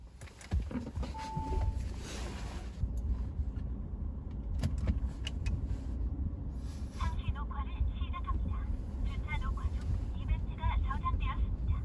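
A 2021 Audi A6 40 TDI with a 2.0 diesel heard from inside while driving: a low, steady road and engine hum with some wind noise, under continuous talking.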